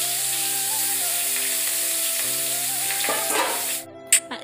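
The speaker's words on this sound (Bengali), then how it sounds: "আর এখানে মাছের মাথা ভাজা করছি" A fish head fries in oil in a pan with a dense, steady sizzle, accompanied by a constant tonal hum from a nearby appliance, then a brief clatter as the frying quietens near the end.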